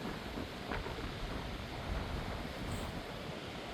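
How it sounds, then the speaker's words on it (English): Steady, roaring wind buffets the microphone outdoors at the beach in Orange Beach, Alabama, with a broad rush of surf underneath and no pauses throughout. "It's gotten really, really windy out here."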